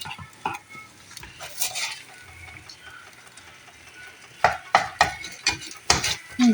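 Scrambled eggs are stirred in a pan with a utensil, giving soft scraping and light sizzling that build into several sharp clinks and scrapes against the pan toward the end.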